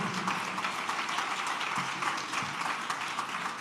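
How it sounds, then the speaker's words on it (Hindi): Loud, dense applause from a church congregation thanking God, a steady wash of many hands clapping without pause, filling the room with no voices standing out. "जोरदार ताली बजाकर परमेश्वर को धन्यवाद करें।"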